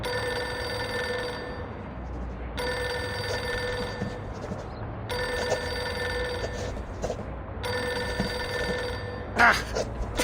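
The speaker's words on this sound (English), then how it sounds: "Pick up the phone already!" A telephone rings in the video game Reverse: 1999, four long electronic ring bursts in an even rhythm with short gaps between them, clear and fairly close.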